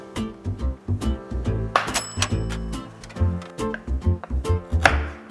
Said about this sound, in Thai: เต็ปต่อไปที่เราจะทำนะครับผมก็คือ การหั่นเครื่องต้มยำ